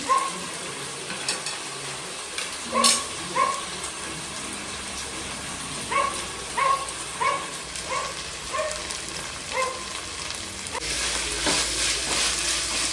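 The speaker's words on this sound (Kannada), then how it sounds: "ಫ್ರೈ ಆಗಲಿ." Chicken curry frying in hot oil in a pan, a steady sizzle punctuated by repeated scraping stirs and clatter, close and fairly loud, swelling into a fuller hiss near the end.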